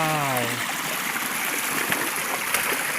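A forest stream at Khao Kradong in Buriram, Thailand, flows steadily with a continuous rushing, gurgling wash of water. A voice is briefly heard at the very start.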